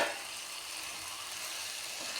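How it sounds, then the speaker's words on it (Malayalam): Onion masala cooking in a pan with chili powder, turmeric and salt for a Kerala-style chicken curry, giving a steady, even frying sizzle throughout with no talking. "മസാല നല്ലപോലെ വന്ന് വരുമ്പോൾ മുളക് പൊടി, മഞ്ഞൾപ്പൊടി, ഉപ്പും കൂടി ചേർത്തിട്ട് യോജിപ്പിക്കാം."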